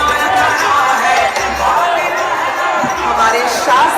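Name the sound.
large crowd of people at Modi rally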